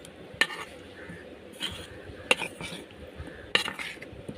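Marinated beef is mixed with cornflour in a bowl, with soft squelchy stirring and three sharp utensil clinks against the bowl spaced about a second apart, close and quiet.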